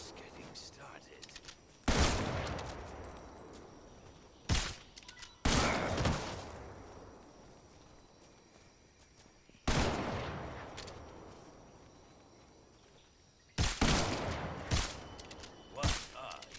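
Gunfire in Metal Gear Solid Snake Eater: four or five sharp, loud bursts of automatic fire spaced several seconds apart, each decaying into echo, with quieter moments and faint background between.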